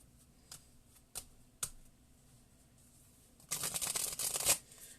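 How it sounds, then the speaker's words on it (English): Brand new tarot cards being shuffled, a few sharp isolated snaps followed by a dense, loud riffling burst near the end, with no talking. "these cards are extremely hard to shuffle because they're brand new"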